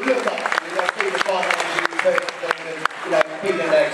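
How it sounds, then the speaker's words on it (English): A crowd applauds at a Sussex sports awards ceremony, a steady, fairly loud patter of clapping that runs throughout under a speaking voice. "round of applause, definitely deserved"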